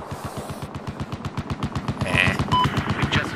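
Rapid automatic gunfire from the Battlefield 4 beta on the Siege of Shanghai map, loud steady bursts of evenly spaced shots across the whole stretch with a few sharper hits layered on top.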